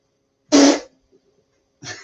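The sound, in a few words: person imitating a farting noise to move a horse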